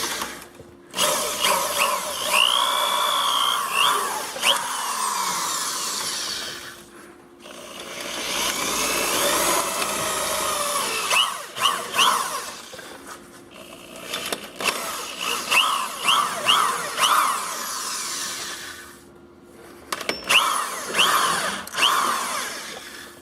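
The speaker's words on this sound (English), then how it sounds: "we're just going to drill" A power drill whines loudly and close by, drilling through a rubber control arm bushing on a Jeep WJ in several long bursts separated by brief pauses.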